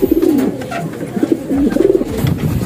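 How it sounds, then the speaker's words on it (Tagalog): Close pigeons give repeated soft, throaty coos in short rolling phrases over a faint background hiss. "Ito yung number one kanina na ibon natin."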